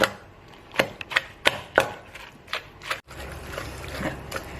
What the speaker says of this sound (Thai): ก็ตำมั่งกวนกวนมั่งนะคะ เอาให้ พริกแตกตัวนะคะ